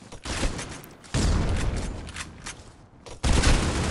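Bursts of AUG rifle fire in the mobile shooter Critical Ops, rapid automatic volleys in three loud stretches separated by brief pauses, close and dominant.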